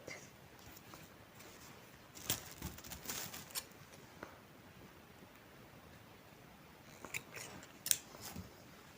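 Scissors snip through knitting yarn in close, crisp cuts, a quick cluster early followed by a few more near the end, soft and alone against faint background hiss.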